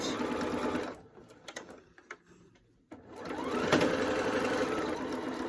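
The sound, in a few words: sewing machine stitching a mobile phone pocket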